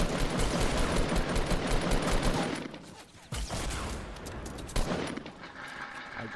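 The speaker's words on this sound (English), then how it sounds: "I just shot my wall." Rapid bursts of gunfire in the video game Fortnite, dense at first, then thinning into scattered sharp shots with a pause in the middle.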